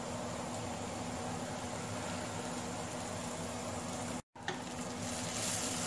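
Onions and garlic with rosemary and thyme fry in a pan over low heat, giving a steady, close, continuous sizzle with a brief dropout near the end.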